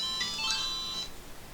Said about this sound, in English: because ringing the bell in Jira's basement